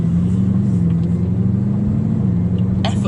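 A Bugatti moves off smoothly in automatic mode, its engine a steady low hum that rises and settles gently as the gearbox engages, close and continuous with no talking.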